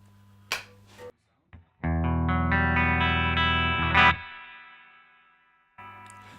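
An electric guitar played through a Boss JB-2 Angry Driver pedal into a clean Fender amp on the bridge pickup, a strummed chord ringing with overdriven grit and sustain before fading, framed by short muted notes.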